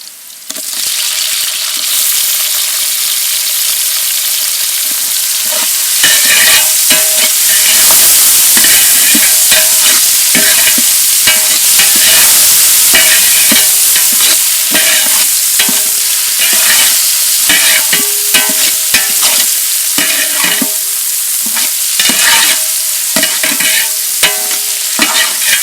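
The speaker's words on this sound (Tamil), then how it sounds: "தக்காளி வெங்காயம்லாம் நல்லா வதங்கிடுச்சு." Tomatoes, onions and green chilies stirred and frying in a pan for a traditional dry fish kulambu, a steady close sizzle broken by repeated scraping strokes of the spoon, with no talking.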